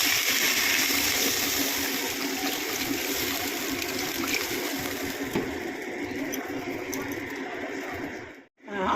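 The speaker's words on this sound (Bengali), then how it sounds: "এইবারে আমি জল দিলাম।" Water poured into a pan of frying fish curry with potato, eggplant and spices sets off a steady loud hiss and gush that runs unbroken before cutting out abruptly near the end.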